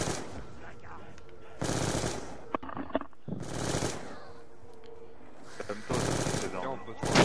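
Bursts of automatic weapon fire in Black Ops 2 Zombies on the Buried map, several loud rapid volleys separated by short pauses, with game effects and a few clicks in between.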